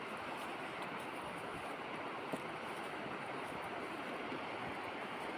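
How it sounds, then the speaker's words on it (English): A river runs with plenty of water below a mountain farm in central Portugal, a steady broadband rushing that stays even throughout, moderately loud with a faint wind-like hiss over it and no voices. "You can hear the sound of the river down below us."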